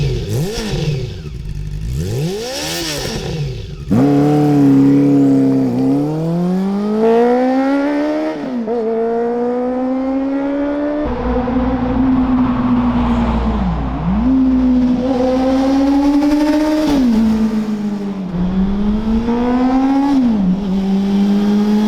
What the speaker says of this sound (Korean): 배기음 먼저 듣고 시작을 하겠습니다.